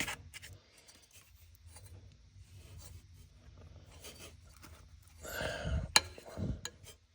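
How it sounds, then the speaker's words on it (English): A plastic zip tie is ratcheted tight around wiring beneath a 2016 Range Rover Sport during a downstream oxygen sensor replacement. Quiet handling and rubbing build to a close, dry rasping burst near the end. "I'm gonna zip tie it like up here"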